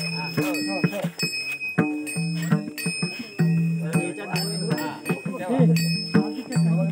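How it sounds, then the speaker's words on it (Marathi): A small puja bell rings steadily throughout a Satyanarayan puja, its bright tone continuous beneath voices chanting and talking nearby. "घंटा वाजवा"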